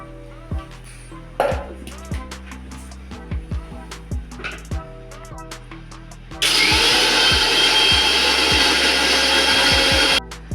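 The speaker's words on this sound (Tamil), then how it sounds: "ஃபஸ்ட்டு நம்ம அரிசியை அரைச்சி எடுத்துக்கலாம்." Mixer grinder whirring loudly as it grinds soaked rice into a smooth batter, a steady dense roar kicking in partway through after a stretch of quieter sounds and lasting about four seconds before cutting off.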